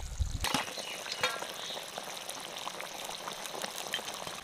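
Fried fish pieces drop into a simmering cauliflower and potato curry, giving a sharp splash and sizzle up front, then a steady low bubbling and hiss of the pot at close range with no talking.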